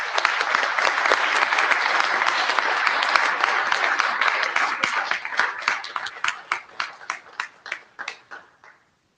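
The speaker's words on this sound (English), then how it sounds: "So let's get a round of applause for Lars." An audience at an IETF research session in Prague claps in a dense, loud round of applause that holds steady, then thins into separate claps and fades out over about nine seconds.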